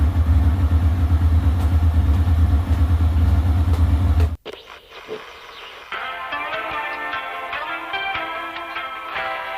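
A motorbike engine rumbles loud and close for about four seconds with a steady idling throb, then cuts off abruptly into quieter, unrelated outdoor sounds.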